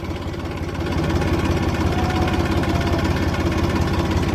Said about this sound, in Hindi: ये आप देख सकते हैं जो मैंने आपको पहले टिंकू भाई का पीले रिमो का ट्रैक्टर दिखाया था